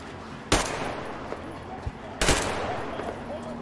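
Two loud, sharp gunshots crack about two seconds apart in the shooter game Metro Exodus, over a busy rumbling background.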